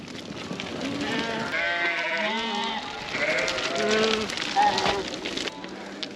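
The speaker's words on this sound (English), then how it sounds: "We've all the lambs in here in this pen." A pen full of lambs, among them Texels, bleats in overlapping calls from several animals, some near and loud, others farther off, one after another throughout.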